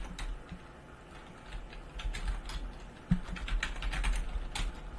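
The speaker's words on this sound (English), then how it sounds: "Let me just go ahead and type in my user information here" Login details being typed on a computer keyboard, with a quick run of soft, fairly faint key clicks at an uneven pace and one sharper tap partway through.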